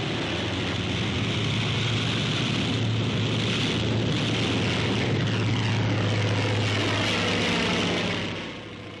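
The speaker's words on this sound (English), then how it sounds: "A TBF takes off, relying solely on propeller thrust." A WWII Navy Grumman TBF taking off on propeller thrust alone makes a loud, continuous roaring engine drone that eases slightly at the end, with no talk over it.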